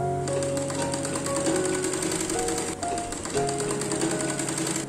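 A sewing machine stitches lining cloth and main cloth together at the waist of an umbrella skirt, running with a loud, steady mechanical whir and rattle, briefly pausing once before carrying on, close up with no talk.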